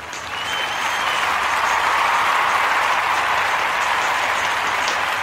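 A crowd claps in sustained, dense applause that swells in over the first second and holds steady and loud, with no talking over it.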